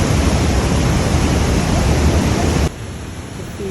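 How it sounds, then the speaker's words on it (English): A waterfall in Switzerland's Lauterbrunnen valley roars as loud, dense, steady rushing water, close with wind buffeting the microphone, before abruptly dropping to a quieter wash. "To feel the splashes of the waterfall on you and the cold air."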